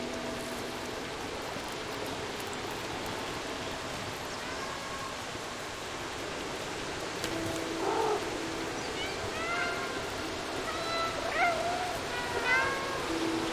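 A cat meowing in the video game Stray, a few short mews rising over a steady, rain-like ambient wash in the second half.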